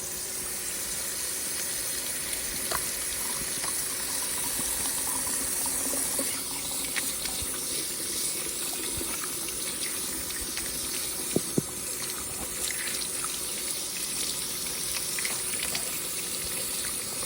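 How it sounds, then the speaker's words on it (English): Running tap water pours steadily for hands being washed at a kitchen sink before preparing vegetables for stock, a constant hissing gush with a few small clicks and splashes, close and alone. "I'm going to wash my hands"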